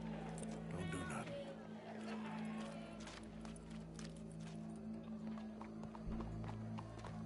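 Horse hooves clip-clopping in a video game, a steady run of crisp hoof strikes over a low, constant hum, with faint voices in the background.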